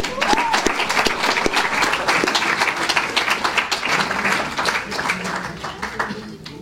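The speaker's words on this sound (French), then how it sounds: "Peut-être on peut l'applaudir encore une fois." Audience applause after a personal testimony talk, a full round of many people clapping steadily before fading slightly at the end, with some voices underneath.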